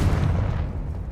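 A Confringo spell blast in Hogwarts Legacy lands as a loud, booming explosive burst. The deep rumble starts at full strength and decays over about a second.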